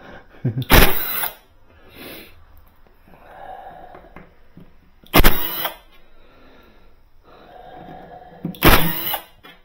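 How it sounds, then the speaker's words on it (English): An impact wrench is run on the screws of a Kenwood KL 660 stereo receiver, giving three loud, close bursts of a few seconds each, separated by quieter handling noise. "I mistakenly grabbed my impact wrench here, but it's fine for listening."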